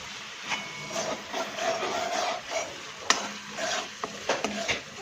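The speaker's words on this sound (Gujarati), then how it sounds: "રાઈ ને લસણ, જીરું, મરચું વઘાર કર્યો" Mustard seeds, garlic, cumin and chili tempering in hot oil give a steady close sizzle, with stirring scrapes and a few sharp metal clinks of a spoon against the pan.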